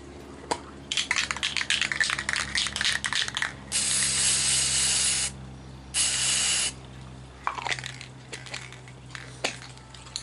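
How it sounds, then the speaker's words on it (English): Rust-Oleum Ultra Clear Gloss Protector is sprayed onto ceramic coasters in two sustained, loud aerosol hisses, about one and a half seconds and then one second long. Clicks, rattles and light handling noises come before and after the bursts. "one is to just spray this with the Rust-Oleum Ultra Clear Gloss Protector."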